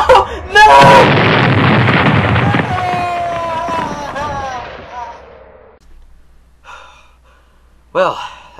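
A rocket explodes in the Halo video game with a loud, close burst that rumbles and crackles for several seconds before fading, followed by a brief sharp gasp and a couple of short later sounds.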